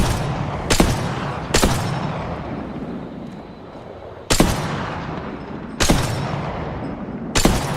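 Heavy video game gunfire roars continuously, with sharp loud shots cracking through at irregular intervals over a dense rumbling bed of battle noise, close and loud with no talk.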